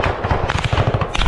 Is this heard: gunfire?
yes